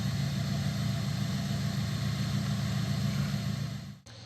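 A Renault Megane IV 1.5 dCi diesel engine idling after a fuel filter change, a steady low rumbling drone that holds even, then dips briefly near the end, close and constant with no talking.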